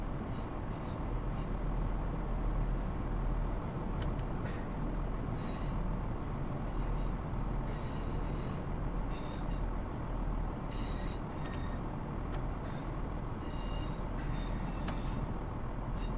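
A Class 170 diesel train braking in the Train Sim World game, with a steady loud low rumble and hiss of the running train throughout, faint intermittent higher tones and squeals over the continuous roar.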